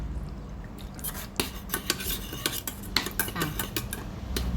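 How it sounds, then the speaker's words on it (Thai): A Thai-style vermicelli seasoning mix with dark soy sauce and fish sauce is stirred in a bowl, giving irregular clinks and scrapes of a utensil against the dish, fairly close, with a faint background sizzle and no talk. "แล้วเราก็จะคนส่วนผสมให้เข้ากันเลยนะคะ"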